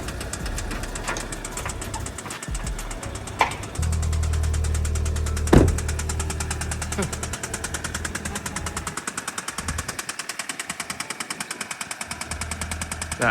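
Audi A3 8P engine running rough with a steady metallic knock, loud and close, with a sharp bang partway through and a regular ticking clatter that grows more distinct toward the end.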